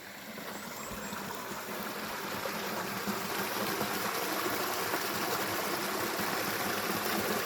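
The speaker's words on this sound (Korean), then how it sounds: "청정 개울이 있습니다." A clean mountain stream flows beside a valley plot of land, a soft, even broadband rush of water that stays constant and moderately distant, with no talking.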